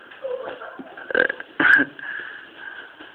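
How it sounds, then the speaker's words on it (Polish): A close, loud burp comes in two bursts around the middle, with quieter throaty noise before and after. "Bekło mi się, słyszałeś?"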